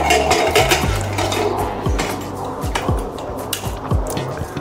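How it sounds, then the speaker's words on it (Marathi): A metal lid fitted onto a pressure cooker holding chana masala, with a series of sharp metallic clanks and scraping knocks up close, several distinct hits spread across the clip. "आता आपण कुकरला झाकण लावायचं आहे।"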